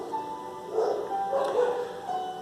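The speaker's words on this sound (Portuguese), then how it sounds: "não sei o que está acontecendo, deve ter muito cachorro aí na rua e briga" Several dogs in the street bark and yelp somewhere off at a distance, a faint scrappy chorus that rises and falls under a steady background hum.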